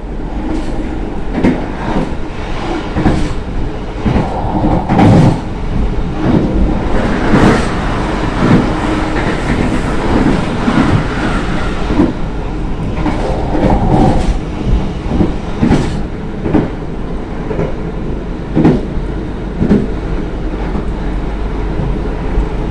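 A Madiun Jaya passenger train departing Karawang station in Indonesia rumbles steadily along the rails, with rhythmic clickety-clack and rattling carriages, loud and close throughout.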